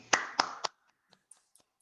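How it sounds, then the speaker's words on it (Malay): Three sharp, close hand claps in quick succession, barely staggered like a small group clapping once during an online training course for administrative assistants, followed by a few faint scattered taps and silence. "satu tepukan"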